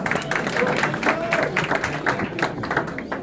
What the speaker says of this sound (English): Give Vanessa a big round of applause.